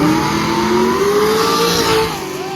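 A split-bumper Camaro races down a drag strip, its engine roaring loudly and rising in pitch as it accelerates away, then fading slightly at the end.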